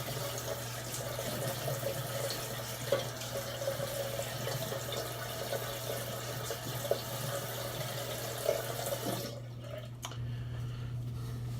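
A bathroom tap runs in a steady, close stream while someone wets their face before a shave, with a few soft splashes before the water cuts off near the end.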